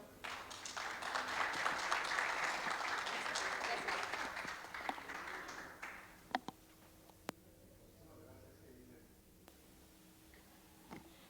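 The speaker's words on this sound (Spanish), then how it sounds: "le damos un aplauso como bienvenida" Audience at a talk on quality beer made with Mexican malt gives a welcoming round of applause that swells, then fades after about six seconds into scattered claps and room noise.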